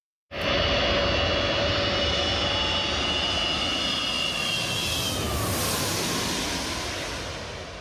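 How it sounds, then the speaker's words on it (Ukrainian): The Antonov An-225 Mriya passes overhead in the sky over Poland, a loud, sustained roar of its jet engines that starts suddenly and rumbles on with a slowly shifting whine, fading slightly at the end. "у небі над Польщею з'являється найбільший літак у світі Мрія"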